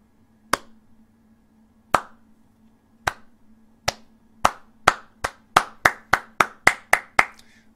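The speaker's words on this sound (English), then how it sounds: "let's engage in a soul clap for them" A single person claps hands in a soul clap, sharp close claps starting slow and widely spaced, then speeding up into a quick accelerating run of about fourteen claps.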